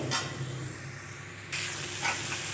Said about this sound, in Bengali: ব্রোকলিটাও সব রকম মশলার সঙ্গে নেড়ে চেড়ে কষিয়ে নেব বেশ ভালো করে